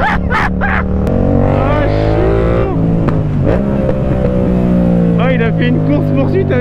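A motorbike engine revs hard and holds high as the rider pulls a wheelie, loud and close, with the pitch sweeping up and down while people talk and shout over it.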